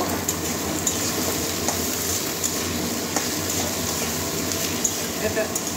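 Cabbage with carrot, potato and capsicum frying in oil for a Bengali cabbage curry, a steady sizzle with occasional stirring clinks, close by and constant throughout.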